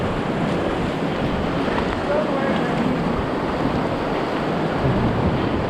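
Rushing river rapids on Sixmile Creek in Alaska roar as a dense, continuous wash of loud broadband water noise, steady and close with wind buffeting the microphone and no clear speech.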